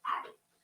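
A man in the background imitates a dog with a single short, yappy bark-like sound, faint and distant, followed by a brief silence and the start of another.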